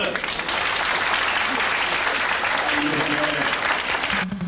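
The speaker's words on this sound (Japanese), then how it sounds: "それじゃあ拍手。" A studio audience at a live public radio broadcast claps steadily and loudly for several seconds, dense and sustained, cutting off near the end as a voice briefly begins.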